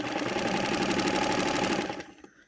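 An Allyn sewing machine running a wide zigzag test stitch gives a fast, even mechanical rattle that stops abruptly near the end, followed by a small click.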